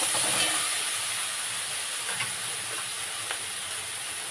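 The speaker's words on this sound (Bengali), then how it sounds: "এই মশলা দিয়ে ভেন্ডি কষা হয়ে গেছে, এইবারে আমি এর মধ্যে জল দেব।" Water poured into sizzling okra masala in a pan sets off a loud, close hiss of steam that settles into a quieter, steady sizzle with a few faint clicks.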